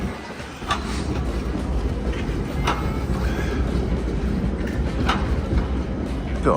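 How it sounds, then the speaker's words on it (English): Old number 2 tram in Riga rolling past on its rails: a steady, loud rumble throughout with faint metallic squeals, and no talking. "Gotta love these old trams."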